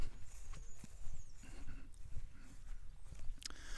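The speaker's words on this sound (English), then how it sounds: "We've got couple of ponies, horses in that field there." Ponies and horses in a field on a Somerset smallholding, heard close by with soft hoof clops and shuffling, a brief snort or whinny near the end, quiet outdoor ambience and no talk.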